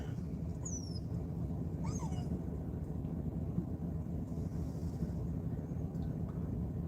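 Puppies that look part boxer whimper faintly in short high cries, a few scattered whines rising over steady low outdoor rumble.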